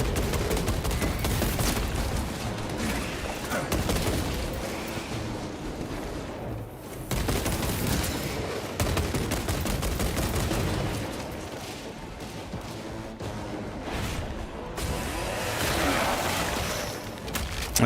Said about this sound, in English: God, piss useless heavy bolt rifle.